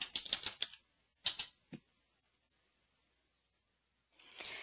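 Quiet keystrokes on a computer keyboard come in two short bursts of rapid clicks and a single tap, then a long silence and a faint rustle at the end.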